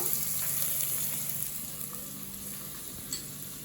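Masala curry base frying in a pan, a steady broadband sizzle that stays even throughout with no voices, a faint stir or clink near the end.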